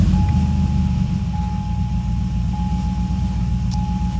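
A cammed Chevrolet TrailBlazer SS truck engine running at a steady idle with a choppy low rumble and a thin constant whine above it, close and moderately loud.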